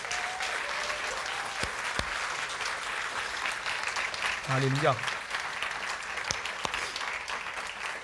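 A church congregation applauds steadily and warmly throughout, celebrating the birth of Jesus Christ, with a brief sung or spoken exclamation from a voice midway.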